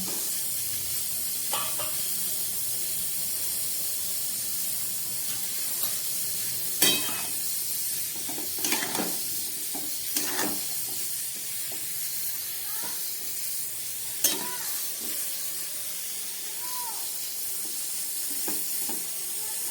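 A vegetable curry with Malabar spinach, papaya, potato, pumpkin and eggplant simmers covered over very low gas, producing a soft, continuous hiss with occasional faint bubbling pops and clicks.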